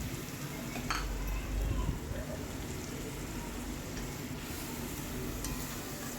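Ground spice mix of cumin, garam masala and chilli powder frying in a pan, a steady soft sizzle with occasional stirring scrapes and a clink of utensil, close and continuous throughout.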